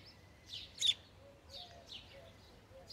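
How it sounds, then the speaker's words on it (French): Birds chirp and tweet in short, scattered calls in a sleeping French village on a Sunday morning, fairly faint against a quiet outdoor background. "On entend les oiseaux."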